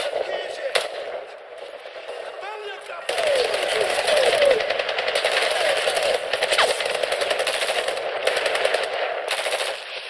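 Sustained automatic gunfire in the modern Medal of Honor reboot video game, rapid rattling bursts over a busy battle background, getting louder partway through.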